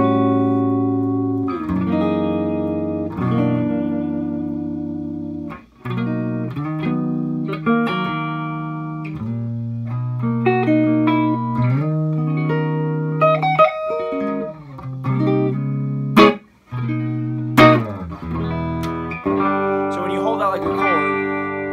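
Electric guitar played clean through a Divided by 13 CCC amp with cathode-biased EL84 tubes and the reverb off, with sustained notes and chords that ring evenly, loud and close, with brief pauses between phrases.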